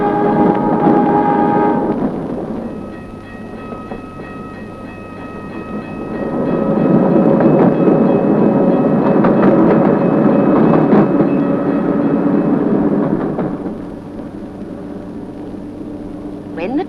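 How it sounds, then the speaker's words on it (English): A 1952 train to Adelaide rumbles past close by at Murray Bridge, Australia, with a loud rolling roar and rhythmic clatter that swells in the middle and then fades. "The train to Adelaide passes through her town"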